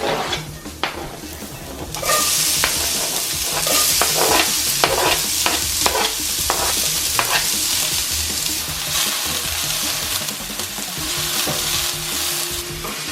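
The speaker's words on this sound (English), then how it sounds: "I'm gonna add the onion and the garlic." Onion and garlic sizzle and crackle steadily in a hot pan, with occasional stirring scrapes, loud and close, no voices.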